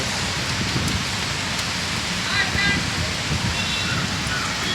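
Steady, dense rain pours down from Cyclone Ditwah in Chennai with gusting wind, a continuous close wash of heavy rainfall with no break.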